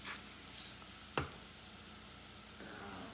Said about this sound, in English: Give it a quick stir and hit it with a little salt and pepper,